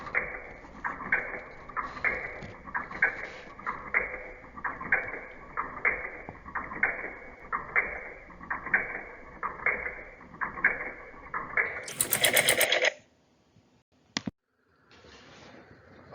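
A homemade compressed air motor with horizontally guided piston rods and connecting rods driving a crankshaft runs with a steady, fast mechanical ticking rhythm, then a loud burst of hissing air before it stops, followed by faint noise.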